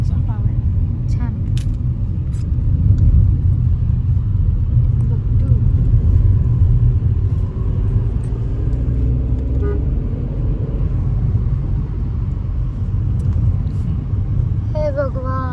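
A car travels along a road with a steady low engine and tyre rumble inside the cabin, a brief horn toot and clicks near the start, and faint voices talking now and then.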